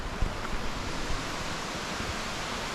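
Steady broadband rush of water at the foot of a waterfall in El Salvador, reached after a hike; a constant, loud roar filling the whole clip with slight wind buffeting and no voices.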